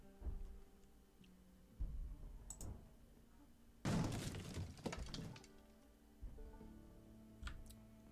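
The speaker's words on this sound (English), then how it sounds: "Somebody smashed a door through, which woke us up." A zombie smashes through a door in Project Zomboid, with a loud splintering crash and shattering midway, preceded and followed by softer thuds and knocks in a quiet room.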